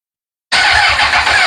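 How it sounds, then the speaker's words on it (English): Fuel pump priming on a 2007 Honda CBR1000RR motorcycle, a steady buzzing whir that begins abruptly after half a second of silence and holds evenly, loud and close, with no talk. "Fuel pump primes."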